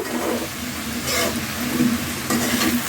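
Red amaranth greens frying in a pan on a gas stove, with a steady sizzle and occasional louder stirring scrapes close by.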